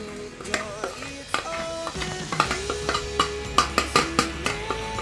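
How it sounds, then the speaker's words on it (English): Suya spice being mixed into meat by hand in a kitchen, a series of close clattering knocks and scrapes from utensils against a pan or bowl, steady and busy with no talk. "We are mixing everything together to taste, and then we coat it here"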